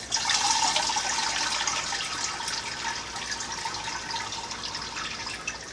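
Grape puree is poured through cheesecloth into a bucket of must, making a steady wet splashing and trickling that is fairly soft and close, with no voices.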